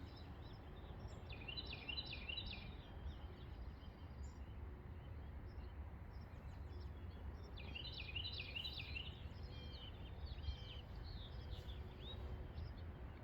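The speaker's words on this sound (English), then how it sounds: "when the birds start chirping, obviously that changes" Outdoor birds chirping faintly in two short bursts of high, rapid twittering over quiet, steady background noise, with no talk.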